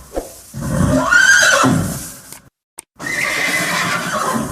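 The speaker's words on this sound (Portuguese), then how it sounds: "Excelente! Um cavalo." A horse whinnies loudly and alone in one long rising-and-falling neigh, followed by a brief silence and a second, shorter snorting whinny.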